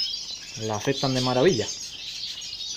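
Pet canaries chirp with bright high tweets over the whole stretch while someone speaks Spanish in the foreground.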